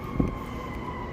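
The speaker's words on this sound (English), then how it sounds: "we hear the sirens" Emergency vehicle sirens wail steadily in the distance across Chicago's Loop, a sustained tone over rumbling city traffic and ambient street noise.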